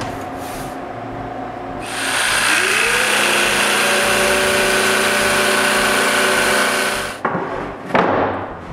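A power saw spins up and cuts through plywood with a loud, sustained whining roar for several seconds, then winds down, followed by a few short knocks and scrapes nearby.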